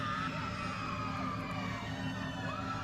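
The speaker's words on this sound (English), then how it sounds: "A crowd of people, including what sounded like a baby, howled." A crowd of people howling, a baby among them: a dense, continuous wall of wavering, siren-like wails that rise and fall steadily, with no pause or talk.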